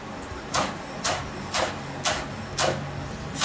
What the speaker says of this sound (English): cut these at an angle, right? And cut these guys as thin as you can.